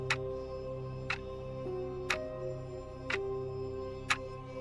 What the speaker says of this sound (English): The clock ticked.